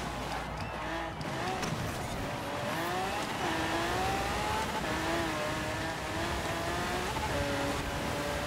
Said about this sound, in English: I know I'm revving the engine right there